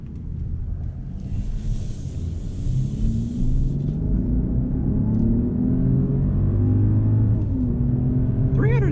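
A 2021 Mercedes-Benz GLS 450 4Matic SUV drives on the road, a steady low engine rumble with rising tones as it accelerates, heard from inside the cabin over a constant road hum.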